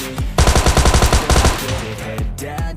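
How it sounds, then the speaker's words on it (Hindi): Rapid automatic gunfire from the video game PUBG Lite rattles out in loud, close bursts, with a pause before a few scattered shots trail off. No one speaks. "दूसरी साइड से गन साउंड आते हैं"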